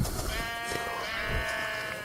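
A Minecraft sheep gives a single drawn-out, wavering bleat, close and clear against a faint game background.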